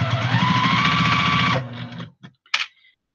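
A sewing machine stitches a baby rag quilt with a steady, close whir for about a second and a half, then stops, followed by a few short mechanical clicks.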